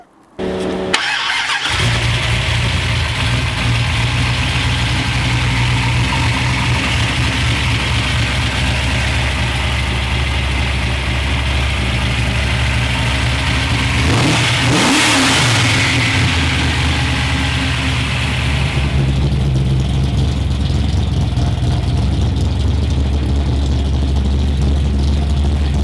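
A 1969 Dodge Charger with a TCI shifter starts up, then settles into a loud, close, steady idle with a brief rev burst midway and a slight change in tone near the end.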